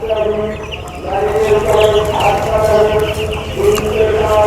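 Thirteen-day-old farm chickens cluck and chatter continuously nearby in a busy flock, with someone talking over them.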